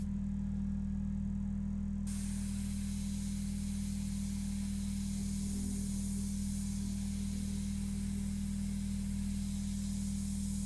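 An airbrush driven by a compressor sprays a medium mixture of India ink for a portrait, a steady airy hiss over a constant low compressor hum that runs through the whole stretch without talking.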